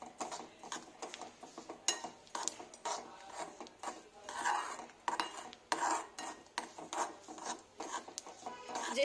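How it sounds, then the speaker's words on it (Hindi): Roasted sesame seeds being stirred into hot jaggery syrup, a steady run of scraping and rasping strokes of a spoon against the pan with small clinks, alone and fairly quiet. "अब हम इसमें डालेंगे हमारी भुनी हुई तिल जो हमने बनाई थी और इसे मिक्स करना है"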